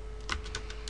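Keys tapped on a computer keyboard while a file name is entered, a handful of separate clicks spaced irregularly, close and fairly quiet over a low steady hum.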